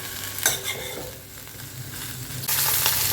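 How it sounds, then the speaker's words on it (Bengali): Fish frying in mustard oil in a pan, a continuous close sizzle that swells louder near the end, with a couple of stirring scrapes and no talking. "মাছটা ভাজছি, এটাই আমার লাস্ট রান্না"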